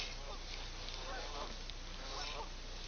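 Faint geese honking in the distance on a pond, a few wavering calls over a steady wash of wind and engine noise.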